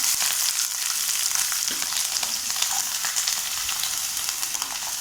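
Onions, chillies, curry leaves and garlic sautéing in a pan, a loud, even, crackling sizzle throughout, close up and with no talk.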